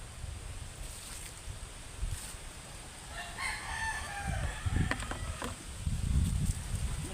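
A rooster crows in the middle distance over steady outdoor background noise, with scattered clucks and rustling from chickens scratching in a garden.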